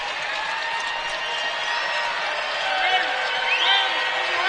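College basketball arena crowd at Freedom Hall during UW Green Bay vs ETSU, rising and cheering at a free throw; a dense, steady roar of many voices swelling slightly toward the end, under faint indistinct announcing.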